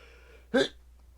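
A single quick sneeze from a person in a podcast room, one short sharp burst in an otherwise quiet moment.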